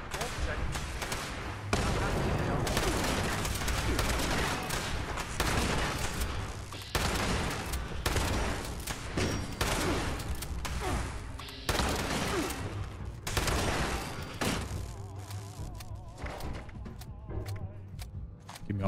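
Repeated shotgun blasts in Fallout 76, loud bursts of fire in quick irregular succession against a busy combat backdrop, close and dominant throughout.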